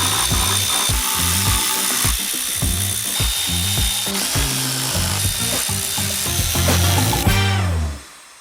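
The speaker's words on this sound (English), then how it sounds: "I could then do up all the bolts." A hand ratchet tightens gearbox bolts on a Ford Fusion ST during an engine-bay build, giving rapid, close clicking bursts in a repeated rhythm with short pauses between strokes, ending suddenly.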